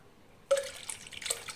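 Water pours into a bowl of toor dal and chana dal for rinsing, starting abruptly after a quiet moment and continuing as a soft splashing, trickling wash close by.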